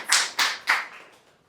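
Three sharp handclaps in quick succession at a student speaking event, loud and close, each a crisp burst that fades out quickly, with no voices.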